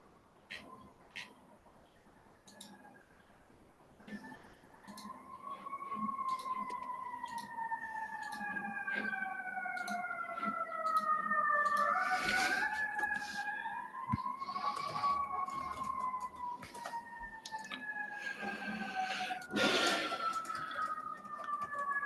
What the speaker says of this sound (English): Somebody has a siren in the background.